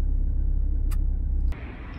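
A car sits with its engine running and the heater switched on, a steady low rumble filling the cabin, broken by a brief tick near the middle before the hum drops to a lighter, quieter drone.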